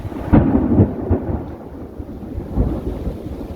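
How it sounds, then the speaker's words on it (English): Thunder rumbling from a severe thunderstorm rolling in over Dauphin Island, Alabama, a loud close crack followed by a low rolling boom that swells again and fades, with faint rain in the background. "Wait for the thunder."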